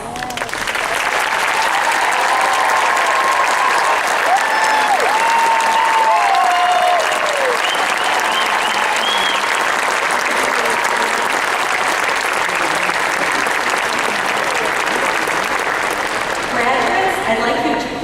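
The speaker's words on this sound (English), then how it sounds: "please stand so that we can honor your achievements with a round of applause" Sustained, loud applause from a large audience honoring graduating nursing students at a university ceremony, a dense continuous roar of clapping lasting many seconds with faint cheers and voices underneath.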